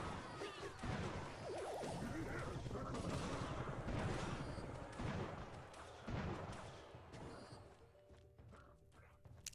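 Mortar artillery fire in a Clash Royale match, heard as dense, continuous booming and crashing game effects that overlap into a steady loud roar, with some spoken commentary mixed in.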